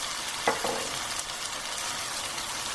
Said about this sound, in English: mix those spices through for about 2 to 3 minutes